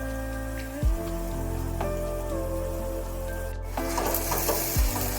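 Radish hits a hot pan over a high gas flame and fries with a steady close sizzle, broken by a few scraping stirs as it is mixed. The dish is a mulor ghonto with eggplant.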